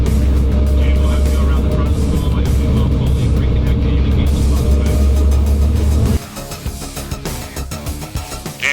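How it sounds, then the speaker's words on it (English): Heavy, steady engine rumble and road roar fill a moving fire apparatus cab, loud and continuous, then drop abruptly to a quieter, uneven mechanical rattle near the end. "We recently recorded the sound inside a moving apparatus to demonstrate the clarity of Firecom's DECT 7 headsets."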